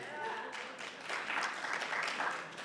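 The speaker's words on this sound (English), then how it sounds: "don't applaud, actually you shouldn't applaud yet" Audience applause at a Sunday church service, a short burst of moderate clapping from the congregation blended with a faint murmur of voices.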